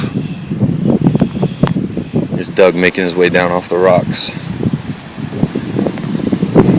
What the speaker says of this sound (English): the wind's whipping pretty good up here